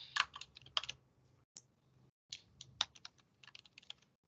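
A password typed on a computer keyboard, quiet close key taps in two short irregular bursts separated by a brief pause.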